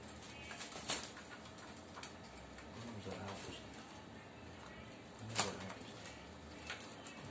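Perkutut zebra doves coo softly in a quiet outdoor setting, with a few brief flutters or sharp knocks standing out against steady low background noise.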